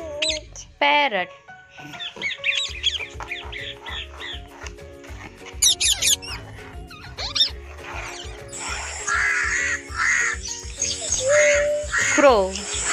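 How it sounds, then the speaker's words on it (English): Parrot calls sound as loud, sharp squawks and chattering whistles, repeated in irregular bursts, close and busy, with a denser, rough chattering stretch toward the end and no talk. "Parrot."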